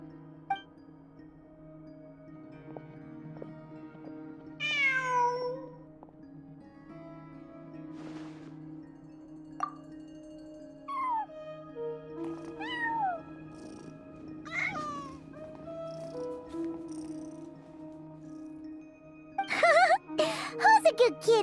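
Cat meows from the video game Genshin Impact, several rising and falling calls scattered across a quiet scene with a steady low musical hum, ending in a brief jingling burst.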